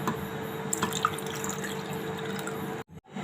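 Tender coconut water being poured into a mixer jar holding coconut flesh, heard as a close, steady trickle with a few drips that stops abruptly near the end.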